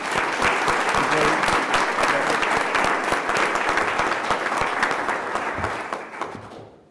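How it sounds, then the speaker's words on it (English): Board of trustees meeting audience applauds steadily for nearly seven seconds, a dense, even wash of many hands clapping that tapers off at the end. "How about a round of applause for you guys?"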